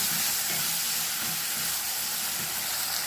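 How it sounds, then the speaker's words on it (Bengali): Fried crabs being stirred and sautéed with masala in a crab curry, a loud, dense, continuous hiss of sizzling oil with soft stirring underneath, steady throughout and close by, no voices. "কাঁকড়াটা দেওয়ার পরে 2 মিনিট ধরে একটু ভালো করে মশলার সাথে আমি কষিয়ে নিচ্ছি।"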